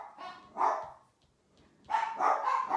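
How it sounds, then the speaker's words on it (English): Two barking dachshunds, the household guard dogs, let out a couple of bursts of excited, nearby barking separated by a short pause, fairly loud indoors. "Just letting you know the guard dogs are on duty."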